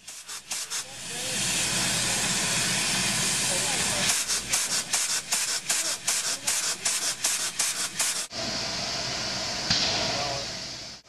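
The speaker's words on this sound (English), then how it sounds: "Steam locomotives are in constant need of attention." Steam hisses from a steam locomotive in a long, loud, steady rush, then breaks into a run of rapid chuffing bursts before settling back into a continuous hiss, heard close with no talking.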